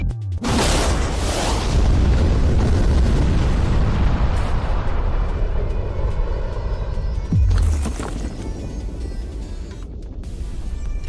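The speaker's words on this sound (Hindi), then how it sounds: "लेकिन ये एक असली धमाका है।" A huge, real explosion booms out and rolls into a long, roaring rumble that slowly fades, followed by a second thud and lingering low noise.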